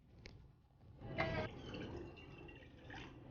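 Water poured into a cooking pot for a radish greens and lentil kootu, a short splash and gurgle of liquid after a faint tap, quiet and close.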